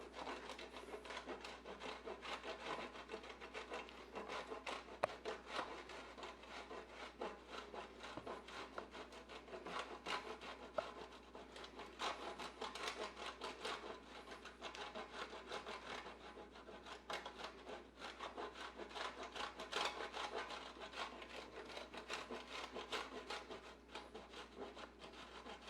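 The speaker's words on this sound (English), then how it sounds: "we're going to start by grating some cheese" Cheese being grated by hand for pistachio pesto, a steady run of soft rasping strokes against the grater that continues evenly and quietly throughout with no talking.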